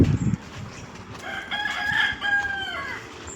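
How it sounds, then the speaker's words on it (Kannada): A rooster crows once in a long, clear call on a farm where chickens and sheep are kept, heard after a brief low thump and over quiet outdoor background. "ಆ ಕಡೆ ಎಲ್ಲ ಕೋಳಿ ಮತ್ತು ಕುರಿಗಳು ಸಾಕಾಣಿಕೆ ಮಾಡ್ತಾಯಿದ್ದಾರೆ"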